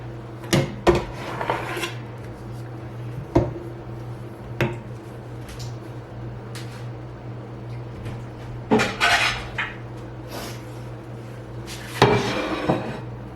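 A spoon scrapes and knocks against a pot while scooping out a sticky chocolate marshmallow mixture, with sporadic close clinks and scrapes over a quiet kitchen hum.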